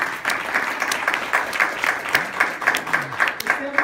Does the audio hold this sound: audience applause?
yes